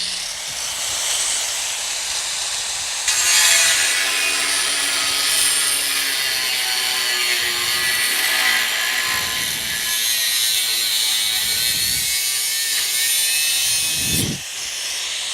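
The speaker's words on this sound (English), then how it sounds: "So we're getting the cut-off wheel ready." Cut-off wheel grinding through a joint on a Bush Hog SQ84T series rotary cutter, a loud continuous hissing screech that holds steady for most of the stretch before stopping near the end.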